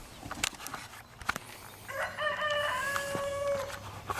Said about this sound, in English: here are the roosters